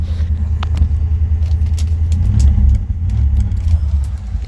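A 1965 Chevrolet Impala Super Sport with a 327 V8 and four-speed idles steadily up close, a deep continuous rumble with a slight swell midway and no talking.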